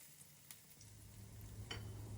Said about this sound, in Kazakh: Пияз бен саңырауқұлақты сақтап жіңішкелеп турап аламыз. Майға қуырамыз